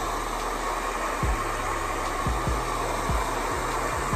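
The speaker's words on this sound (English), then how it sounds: "I'm gonna get a blow dryer" Handheld hair blow dryer running steadily throughout, a loud constant whooshing hum with faint clicks and thumps underneath, used on freshly washed hair.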